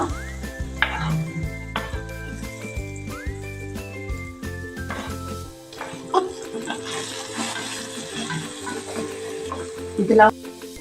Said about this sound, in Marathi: कांदा आपण तांबूस रंगावर भाजून घेऊया।